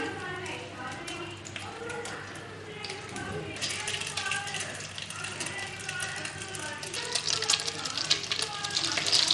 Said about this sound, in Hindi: सारी इसी तरह से मैं फ्राई करूंगी।